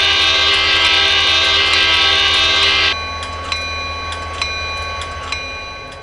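A diesel locomotive in the Railworks train simulator game sounds a long, loud horn blast over a low engine drone, then rolls on with rhythmic track clicks and short clanks.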